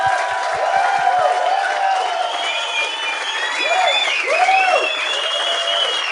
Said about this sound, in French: Bonne main d'applaudissements pour Dave Godette et Mike Baudouin